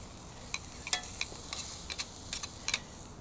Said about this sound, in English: We'll just turn our flank steak, get a little cross hatch on it.